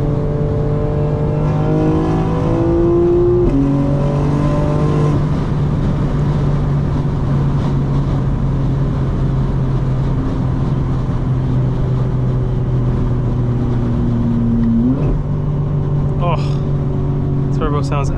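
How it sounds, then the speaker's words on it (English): A 2025 BMW M4 Competition xDrive turbo engine drones loudly from inside the car, holding a steady pitch with gear-like shifts, then climbs sharply in revs near the end amid wind noise. "Oh, turbo sounds absolutely nuts."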